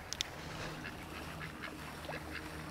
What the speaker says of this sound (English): Five black ducks here at Hollywood Forever Cemetery.